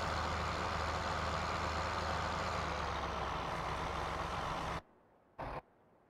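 A truck in Farming Simulator 17 drones with a steady loud engine hum, then cuts off abruptly, followed by a single short burst of sound.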